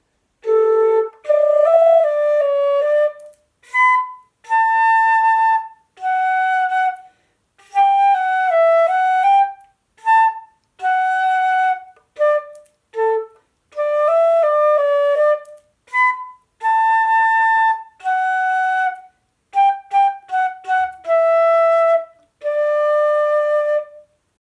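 Flute plays the ABRSM grade 4 piece At the Playground, a lively melody of short phrases and quick runs with brief breaths between, close and clear, solo without talk.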